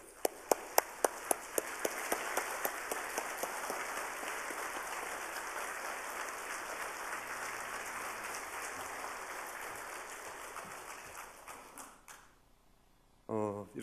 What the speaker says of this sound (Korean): 나오실 때 우리 뜨거운 박수로 맞이하십니다